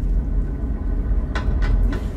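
Train in the animated movie Transformers One, a steady low rumble of rolling rail cars with a few brief clattering bursts, loud and continuous without voices.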